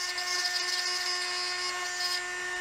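A drill bores a hole into a Blue Brixx Borg cube brick model, producing a steady, high-pitched whine with a constant tone throughout, close and alone.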